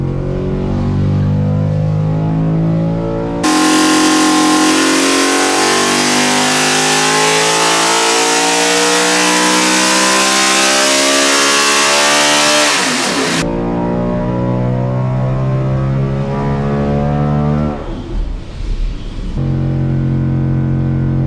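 A NASCAR racing engine runs on a dyno, loud and close, revving hard to a roaring high-pitched wail for several seconds before dropping back to a steady rumbling run.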